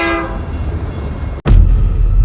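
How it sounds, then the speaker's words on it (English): A train passes close by with a loud horn blast at first, then a steady rumbling roll of rail cars that swells louder after a brief break. "Sounds like a train going through here."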